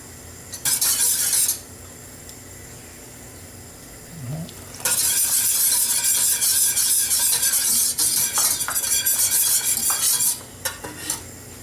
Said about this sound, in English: just gradually add it and whisk it in